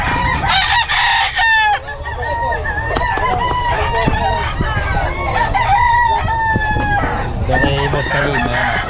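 Gamecock roosters in a backyard crow repeatedly over one another, with steady clucking and farmyard bustle filling the gaps; loud and close, continuous throughout.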